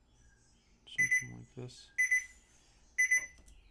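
An alarm clock rings in three short, bright repeated bursts at regular intervals, heard under a person's talk.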